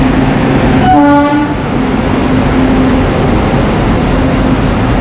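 A loud WAP-7 electric locomotive rumbles steadily throughout, hauling the Tamralipta Express from Howrah, with a brief horn toot sounding near the start over the continuous engine drone.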